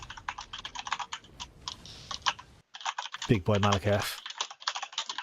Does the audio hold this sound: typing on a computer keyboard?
yes